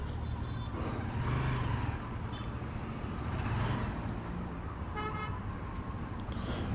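Heavy, congested road traffic with a steady rumble of engines and a few short car horn toots scattered through, continuous and fairly close, with no talk.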